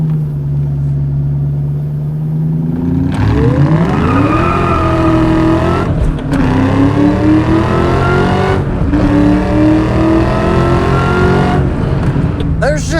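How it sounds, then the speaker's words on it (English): A 2004 Ford Cobra Terminator with 49K miles accelerating on a test drive, the engine note climbing loudly through gears with short pauses at shifts, close and dominant throughout. "There's just something about hopping in a Terminator, the way that these cars sound, the way that they perform."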